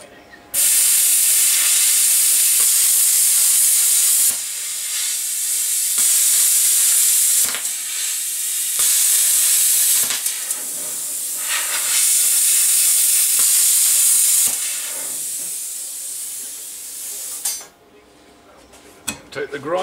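A plasma cutter slicing through metal gives off a loud, harsh, steady hiss in long bursts, broken by brief pauses before the sound drops away near the end.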